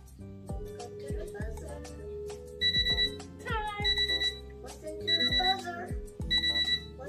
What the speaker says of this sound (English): Listen to the buzzer.